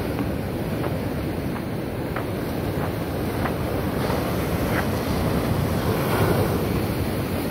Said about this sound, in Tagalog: Grabe, ang lakas ng alon dito